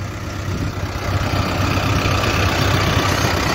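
A Mahindra Arjun 605 tractor engine runs steadily in medium gear at a constant pace, a loud low rumble with no breaks throughout.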